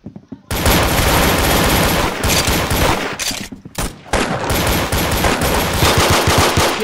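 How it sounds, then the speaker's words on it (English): Rapid automatic gunfire from a fast-firing gun in a Roblox gun game, loud dense bursts of shots running almost continuously with a couple of brief gaps. "Oh, this gun, it does little damage, but it fires, like, its fire rate is fast."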